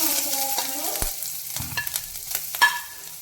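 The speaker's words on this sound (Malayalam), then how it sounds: "നമ്മുടെ തേങ്ങയും ശർക്കരയും അണ്ടിപ്പരിപ്പും പഴവും ഒക്കെ ഈ നെയ്യിലാണ് നമ്മൾ വരട്ടിയെടുക്കുന്നത്" Grated coconut stirred in hot ghee in a pan, a steady close sizzle with scraping stirs and occasional clinks of the spoon, no voices.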